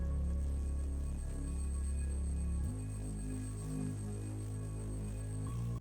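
Deep synth bass fills the low end of a hip-hop, drum and bass and hyperpop track, humming steadily with a shift in pitch partway through, alone and fairly loud.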